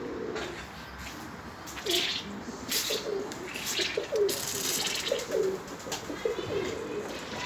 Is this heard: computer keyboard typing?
no